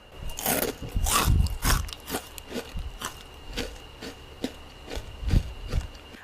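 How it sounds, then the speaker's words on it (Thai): Crispy deep-fried battered pork belly bitten repeatedly at close range, sharp crunches in an uneven rhythm with chewing crackles between bites, no speech. "วันนี้จะชวนทุกคนมาทำสามชั้นทอด กรอบ ๆ นะคะ จะให้ฟังเสียงกรอบนะ"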